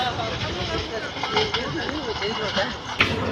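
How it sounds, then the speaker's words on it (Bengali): A Dhaka Mail passenger train rolls into a busy junction station in Bangladesh, a steady rumble and hiss of cars and brakes mixed with crowd noise and indistinct voices on the platform. "ঢাকাগামী ঢাকা মেল ট্রেনটি বাজার জংশনে প্রবেশ করেছে"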